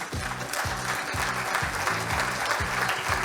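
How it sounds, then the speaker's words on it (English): A theatre audience at a stage play curtain call claps steadily and loudly, dense rhythmic applause filling the hall without pause. "you can keep the claps going, ladies and gentlemen"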